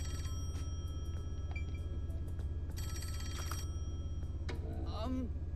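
Telephone ringing in the video game Master Detective Archives: Rain Code, repeated electronic ring bursts over a low steady hum, with a chiming tone near the end.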